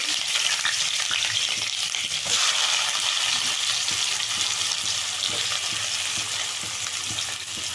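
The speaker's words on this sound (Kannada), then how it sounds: "ಫಸ್ಟ್ ಈರುಳ್ಳಿ ಫ್ರೈ ಆಗಲಿ" Onions frying in a pan for egg gojju: a loud, dense, continuous sizzle that holds steady throughout, with faint stirring knocks and no talking.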